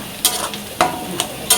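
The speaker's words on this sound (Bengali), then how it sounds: "ভাজা ভাজা করি। আর এদিকে মশলাটা কষাচ্ছি।" Turmeric and spices fry in a black kadhai for a dish of greens, under a steady loud sizzle broken by four sharp scraping strokes of the stirring spoon.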